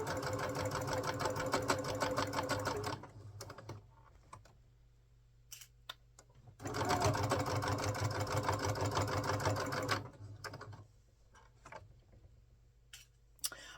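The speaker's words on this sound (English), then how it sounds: "I'm giving myself a little back stitch there because that corner is going to be a little stressed" A sewing machine back stitches a fabric seam at the corner of a crossbody bag, with two loud, steady runs of rapid mechanical stitching split by a quiet pause and light clicks.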